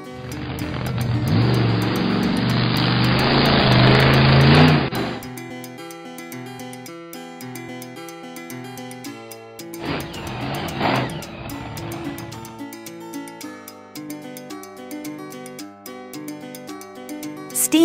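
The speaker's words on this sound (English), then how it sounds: "Monster car." A monster car engine revs loudly and roughly for about five seconds, then cuts off; a second shorter burst of engine noise follows, with bright music running underneath throughout.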